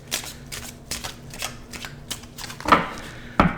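Tarot cards from a combination of four decks being shuffled by hand, a series of quick close riffling bursts about every half second, ending with two sharper slaps, with no talking.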